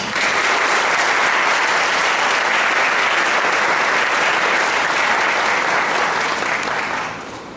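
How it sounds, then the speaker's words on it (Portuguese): Sustained applause from a church audience after a talk on the biblical foundation of the sacrament of matrimony, a dense, steady wash of clapping held at full volume for about seven seconds before starting to taper off at the end. "Vamos saudar uma salva de palmas"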